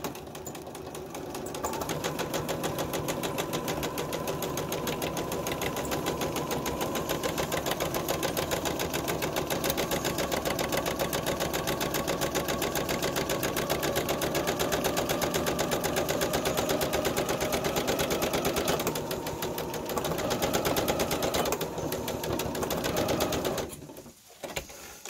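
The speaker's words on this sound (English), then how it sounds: "I'm not sewing through the fashion fabric at all. I'm just sewing the pocketing. And I'm going to do a bar tack." A sewing machine runs steadily for over twenty seconds, stitching pocketing for an 18th-century frock coat and finishing with a bar tack; a dense, even mechanical whir and rapid needle clatter, close and continuous, easing off briefly near the end.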